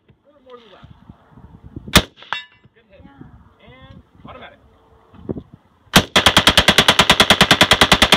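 An AK-47 rifle firing on full automatic at an outdoor range: two single loud shots with metallic pings and voices in between, then a fast, sharp burst of rapid shots near the end.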